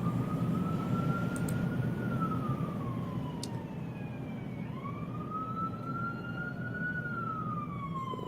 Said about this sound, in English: See, that's the ambulance coming for Alan Jackson after this useless cross.